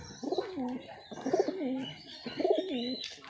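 Pigeons coo in a loft of Andhra breed birds, three rounded, warbling coo phrases spaced about a second apart, fairly close, with faint chirps in the background.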